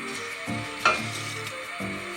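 Sofrito frying in butter with a little oil makes a steady sizzle throughout, with soft stirring scrapes and one sharper crackle partway through; no voices.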